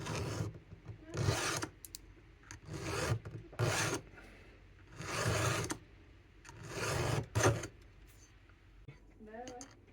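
A file rasps across the teeth of a chainsaw chain being sharpened on the saw, giving about six separate bursts of stroking with short pauses between them. Faint speech can be heard under some of the strokes.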